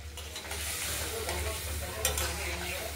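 Ground spice paste and tomato sauté in a hot pan, giving a steady close sizzle with continuous stirring scrapes and a brief sharper clatter near the end, with no talking.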